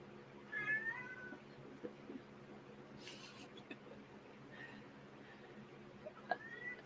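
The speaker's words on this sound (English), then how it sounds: "I hear him meowing, but I don't see him." A cat meows somewhere out of sight near a bed, a few faint, drawn-out calls spread apart against a quiet room hum, with soft scattered knocks between them.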